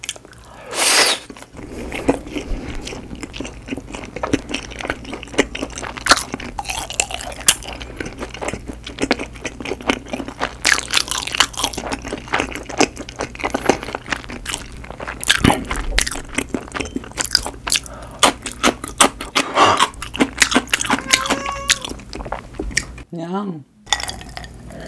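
Someone eats Chicago-style and Detroit-style pizza up close, with repeated crisp bites and crunchy chewing, occasional light clinks and a few wet squishes.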